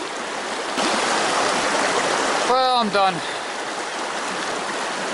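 A Catskill mountain stream rushes around a large boulder in midstream, its broadband water noise loud and constant throughout, while someone speaks briefly over it near the middle.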